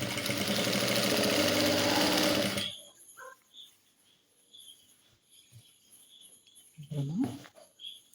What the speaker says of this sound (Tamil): நான் வந்து 1 இன்ச்சுக்கு தைக்க ஆரம்பிக்கிறேன்.